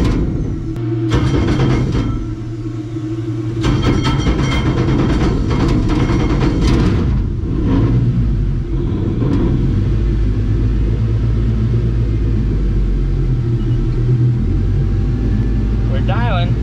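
A turbocharged Honda K-series engine in a jet boat runs with a loud, deep rumble and shifting revs throughout, while people talk close by.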